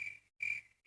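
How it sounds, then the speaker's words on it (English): Cricket chirping used as a sound effect, heard as two or three steady, high trills separated by brief silences, faint and alone. "Crickets."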